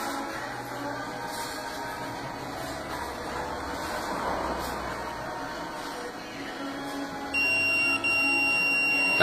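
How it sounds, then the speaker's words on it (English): A steady electronic whine runs under a noisy machine hum, then a sustained high beep sounds near the end from a Juki LK-1903B-SS button sewing machine setting a program. "That beep is normal."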